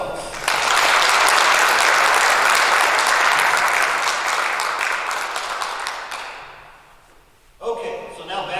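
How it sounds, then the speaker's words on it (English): A large event audience at a scholarship pageant applauds its sponsors in a loud, dense burst of clapping that fades after about six seconds, then a voice starts to speak. "Let's give our sponsors a big round of applause"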